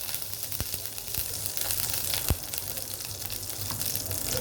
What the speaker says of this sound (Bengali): এখন আমি ভাজতে চলে যাব। আমি একটু ঘি দিয়ে দিব